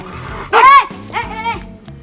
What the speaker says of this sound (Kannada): ರಕ್ಷಿತಾ ಮನೆ ನಾಯಿ.